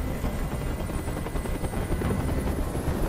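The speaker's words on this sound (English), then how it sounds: "Tell that helicopter to get out of here!" A hovering helicopter in the video game Detroit: Become Human, its rotor producing a continuous rapid thudding chop with steady engine whine, loud and close, with no speech on top.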